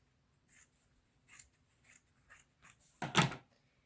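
Scissors cut along a fabric crease while sewing cloth face masks, giving a series of soft, close snips at roughly even intervals followed by a sharper, louder final cut.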